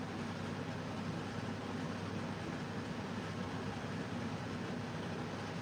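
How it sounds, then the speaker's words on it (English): An electric fan runs in the background of a quiet room, giving a faint, even whooshing hum that holds steady without change. "can you hear that fan? Is it going to be annoying?"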